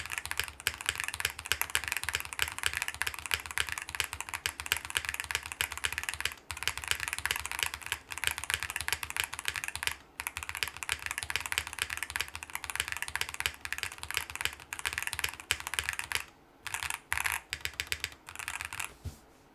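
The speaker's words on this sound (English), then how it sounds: "It does sound better with the GMK spacebar." Fast, steady typing on a mechanical keyboard with a GMK spacebar, dense clacky keystrokes recorded up close, with a few brief pauses between bursts.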